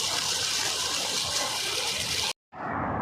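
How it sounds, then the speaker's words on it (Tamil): Running water gushes steadily and loudly at a large mosque in Saudi Arabia, with a brief cutoff near the end before the rushing flow resumes. "தண்ணி போட ஆரம்பிச்சிட்டாங்க."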